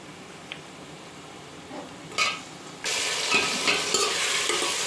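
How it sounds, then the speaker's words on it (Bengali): Mutton is added to fried onions in a pot: quiet stirring and a couple of utensil scrapes, then a sudden loud sizzle bursts up and continues, with occasional stirring beneath. "এবার এর মধ্যে আমি মাটনগুলোকে দিয়ে দেবো।"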